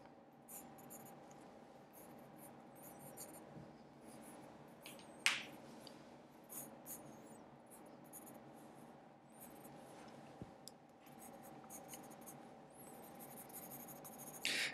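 Pen or pencil strokes scratching across paper while drawing a large picture, a steady soft rubbing texture with occasional small taps and clicks, quiet and close, no talking.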